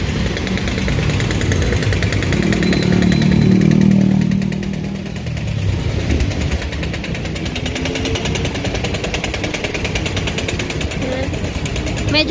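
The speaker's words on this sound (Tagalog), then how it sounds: "Medyo marami lang pong sasakyan." Street traffic in Zapote, Longos, with motorcycles and cars passing close: a loud, steady engine drone swells around the middle and then settles, under scattered voices.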